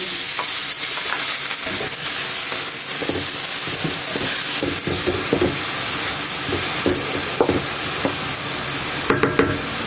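Ground chicken fries with garlic and sautéed onion in a hot pan: a loud, continuous close sizzle with scattered clicks and scrapes of stirring and a few sharper taps near the end.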